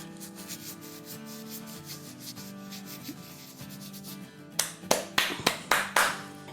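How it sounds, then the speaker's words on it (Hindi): Dried oregano crushed between the palms over a pan of burrito filling: a steady, soft, dry rubbing, ending in a quick run of sharp pats as the hands brush off, close and alone. "हाथ में लेंगे और क्रश करके डालेंगे।"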